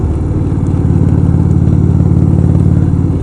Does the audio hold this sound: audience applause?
no